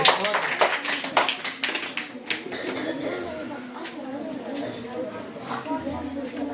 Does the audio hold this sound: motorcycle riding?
no